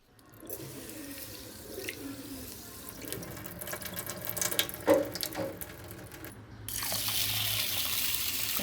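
Rice and green mung beans are swished and rubbed by hand in water, with scraping and sloshing, followed by a steady rush of running tap water; no talking.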